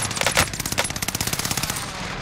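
Rapid automatic gunfire from an LC-10 submachine gun in a video game, a loud, steady burst of closely spaced shots running through the whole stretch with no talk over it.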